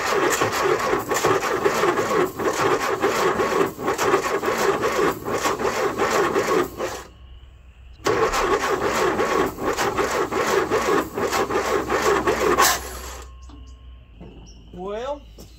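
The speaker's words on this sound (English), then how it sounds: "That starter is really, really dragging." Starter motor on a long-stored M151A2 MUTT military jeep cranking sluggishly in two long bursts with a brief pause between, loud and close, the slow dragging rhythm ending in quiet with faint birdsong.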